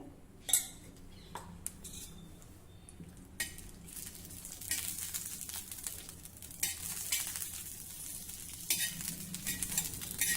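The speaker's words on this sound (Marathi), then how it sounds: "सर्वप्रथम लोखंडाच्या तव्यावर आपण ही लाल मिरची भाजून घेऊया" Dried red chillies roasting in a little oil on an iron tawa, with a continuous crackling sizzle broken by spatula scrapes and clinks, the frying growing busier and louder toward the end, close up.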